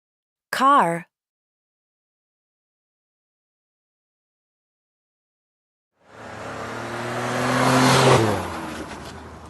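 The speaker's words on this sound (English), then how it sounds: "Car." After a short spoken word and a silent gap, a car engine revs up from low, swelling louder and rising in pitch before easing off, heard alone and close.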